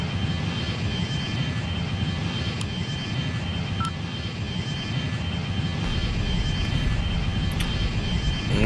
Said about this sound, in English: I'll hold the brake down and then I'll rev the engines all the way up to get them up to full speed